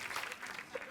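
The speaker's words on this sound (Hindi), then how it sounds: "तो एक बार जोरदार तालियां हो जाएं पूरी मिर्जा की कास्ट के लिए।" Studio audience applause for the Mirzya cast on a Kapil Sharma comedy show, a short, fairly faint burst of crowd clapping.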